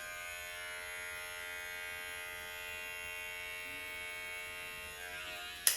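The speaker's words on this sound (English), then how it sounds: "So this, you use the clipper." A barber's hair clipper runs with a steady, faint electric buzz and a constant tonal hum, ending in a brief sharp click.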